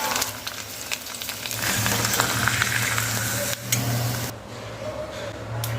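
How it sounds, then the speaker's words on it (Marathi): Homemade rice khichi papad frying in hot oil gives a loud, steady sizzle and crackle that runs close-up through the whole stretch, easing slightly near the end. "आवाजावरनच आपल्याला कळेल हे आपण तळून बघायचे आहेत"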